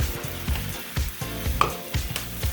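Spices with turmeric tossed in a sizzling pan while cooking saag tofu, a close steady fry hiss with rhythmic stirring scrapes and clanks roughly every half second, no talk.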